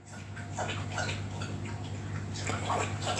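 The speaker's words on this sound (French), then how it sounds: "Et il y a mon chien qui boit juste à ce moment-là." A dog laps water at close range, giving a soft, rhythmic run of wet slurps over a steady low background hum.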